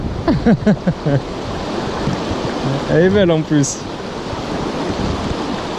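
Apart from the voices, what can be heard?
wind blowing by a mountain river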